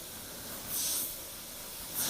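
Infinity airbrush spraying paint, two soft airy hisses, the first lasting about half a second and the second starting right at the end, over a faint steady background.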